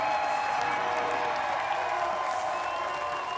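A home crowd at a velodrome track cycling Nations Cup in Milton, Canada, cheers and applauds a gold medal sprinter, making a steady, dense roar of clapping and voices heard from a distance that holds unbroken throughout.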